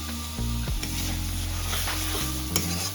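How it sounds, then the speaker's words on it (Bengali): Bengali fish curry masala being stirred and fried in oil in a pan, a steady close sizzle with scraping stir strokes throughout, no talk. "তো দেখো সব রস টেনে নিয়েছে, কষাচ্ছে, মানে মশলাটাও ছাড়ছে, ভালো তেল ছাড়া শুরু করে দিয়েছে।"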